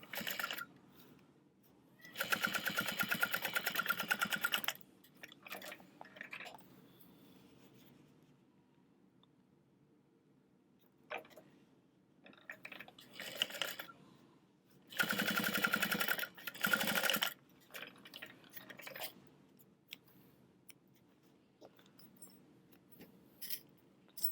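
A sewing machine stitches bag gussets with a 3/8 inch seam in two main rapid bursts, separated by quieter handling and rustling of fabric.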